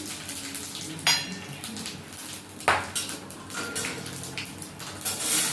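Whole cinnamon, small cardamom, bay leaf, dried red chilli, cumin seeds and radhuni tempering in hot oil for a bottle gourd curry, with a close, steady low sizzle broken by two sharp bursts of crackle and a few pan clinks.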